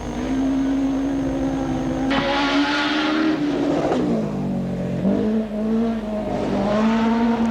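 A 1980 hot rod race car screams down the track at full throttle, its engine note steady and loud, rising and dipping in pitch as it shifts and passes, with no talk over it.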